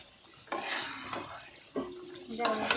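Chicken pieces go into a pan in a home kitchen and are stirred, with several sharp scrapes and clanks of a utensil against the metal over a soft background hiss, close and moderately loud.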